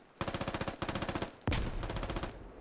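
Automatic weapon fire in the military shooter Squad comes in two rhythmic bursts followed by a heavier, louder volley, all close and sharp.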